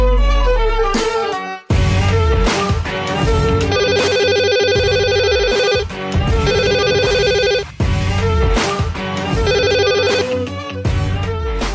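A landline telephone rings loudly in repeated bursts of electronic trilling tones, close and clear, with short gaps between rings and no voices.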